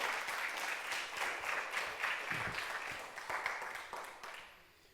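Congregation applauding during a Sunday church service, a dense broadband wash of clapping that holds steady, then thins and fades toward the end.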